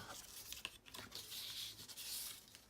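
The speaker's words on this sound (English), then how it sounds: "you can also use it like a bone folder to just burnish those lines" A paper crease is burnished with the flat edge of an envelope punch board tool, giving soft, faint scraping and rubbing strokes in quick, uneven passes.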